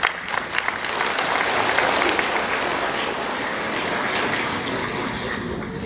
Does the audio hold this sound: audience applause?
yes